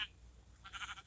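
Sheep bleat in a video game sheep farm, two brief bleats, one at the very start and a fuller one midway, close and fairly quiet with no voices.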